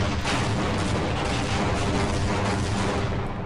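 Dense, continuous rumbling explosions mixed with rapid gunfire in the video game Half-Life, loud and chaotic like a battle scene, with no talking.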